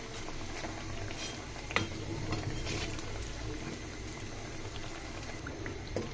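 Pakon pitha snacks deep-frying in hot oil until reddish make a close, continuous bubbling sizzle, broken by a few sharp clicks from a utensil.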